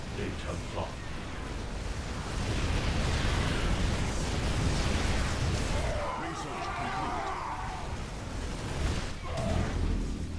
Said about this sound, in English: Our pylon is under attack.